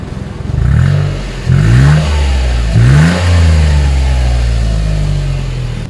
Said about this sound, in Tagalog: Ito po ang sound check natin dito sa tambutso niya kung ito po ay upgraded.